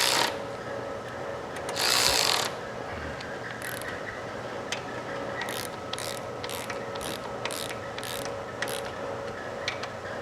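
A hand tool clicks in a quick series of short ratcheting bursts while bolts are tightened on a 1971 VW Squareback engine, with one longer louder grinding burst near the start, close and without talk.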